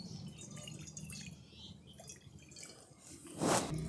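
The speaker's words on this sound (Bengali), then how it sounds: "কড়াতে দিয়ে দিচ্ছি অল্প একটু জল।" Splashy pour of a small amount of water into a wok on the stove, set up for a light fish curry; a soft trickle gives way to a louder splash and sizzle near the end.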